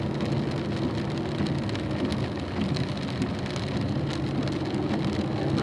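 Steady rain on a racetrack during a wet driving-school session, a continuous dense hiss of drops with low rumbling road and engine noise underneath, no talking.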